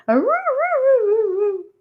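A human voice imitates a husky's howl: one loud, close, wavering howl that rises, bends up and down, and slowly falls over nearly two seconds before cutting off.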